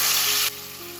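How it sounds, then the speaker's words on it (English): Onion paste hits a pan of hot whole spices including cloves, cinnamon sticks and cardamom for a chicken curry, giving a loud hissing sizzle that drops suddenly to a quieter steady fry halfway through. "Once the spices start infusing the aroma, I'm going to add in the onion paste to it."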